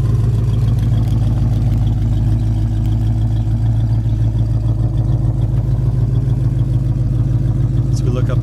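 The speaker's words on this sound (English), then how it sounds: "Dual exhaust sounds good." A 1973 Ford Mustang convertible idles through its dual exhaust with a steady, loud, deep rumble and an even low throb, heard close by for the whole stretch and with only a faint tick near the end.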